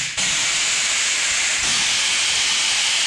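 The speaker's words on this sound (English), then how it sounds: "the air valve's right in your face and it's really loud" A loud, steady hiss of compressed air bursts from the air valve of a Coats rim clamp tire changing machine, starting abruptly and continuing close and harsh to the end.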